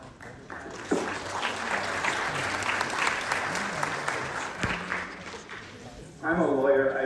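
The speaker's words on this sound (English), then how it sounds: "So thank you even for a little bit of applause." Modest applause from school district staff at a convocation meeting, a sustained patter of clapping that fades before a voice returns near the end.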